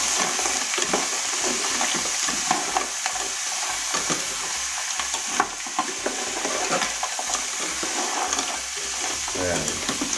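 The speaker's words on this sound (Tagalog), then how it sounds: "Ilalagay na natin ang tahong. Isasangkutsa muna natin siya." Mussels sautéed in a hot pan: a steady sizzle with repeated scraping and stirring clatter of shells and spoon, moderately loud and close, with no voices.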